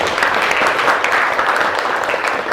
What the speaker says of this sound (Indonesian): Oke, boleh beri tepuk tangan.